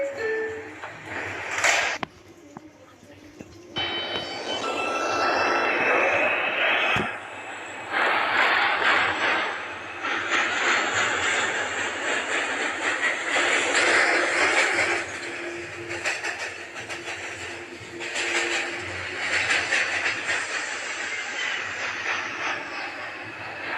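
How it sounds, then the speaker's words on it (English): A Manhattan-bound R142 6 subway train in a video game runs along the track with a sustained rumbling drone and rising motor whine that swells and holds, loud and continuous, with no talk. "This is a Manhattan-bound 6 train."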